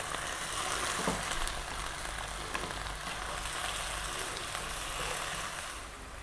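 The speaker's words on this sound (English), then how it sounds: "We're still on a high heat, stirring it around." Chinese cabbage stir-frying on high heat, a dense continuous sizzle with the soft rustle of stirring throughout, fading slightly at the close, no speech.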